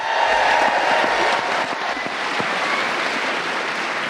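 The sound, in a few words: live audience cheering and applause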